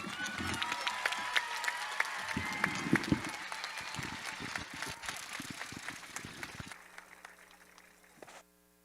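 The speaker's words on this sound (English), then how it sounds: "Let's give him a round of applause" A graduation crowd at Edcouch-Elsa High School applauds and cheers for the valedictorian, sustained clapping from many hands with scattered whoops, slowly fading before cutting off at the end.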